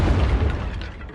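A Confringo blasting spell goes off in Hogwarts Legacy. It makes a single deep, loud boom with a heavy low rumble, and the sound trails off over about a second.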